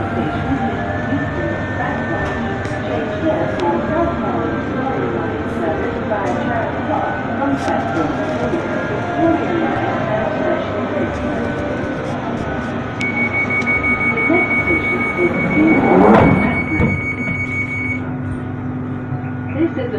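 A London Underground Northern Line train rumbles along steadily with wheel and motor drone, a rising whine, and a brief louder rushing swell near the end.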